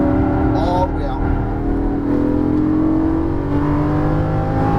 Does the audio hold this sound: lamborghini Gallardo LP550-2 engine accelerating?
yes